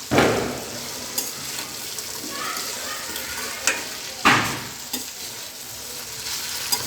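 Garlic frying in a pan on a low flame while Andhra-style okra fry is made: a continuous crackling sizzle with several sharp stirring scrapes and taps against the pan at uneven intervals, close and fairly loud.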